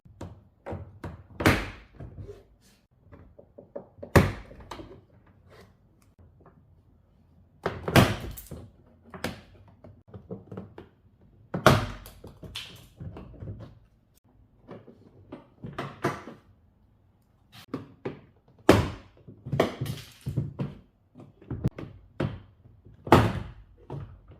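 Plastic trim clips being pried loose from a 2010 Audi B8 S4 door panel, a series of sharp, fairly loud snaps and thunks in irregular clusters with quiet gaps between them, close by.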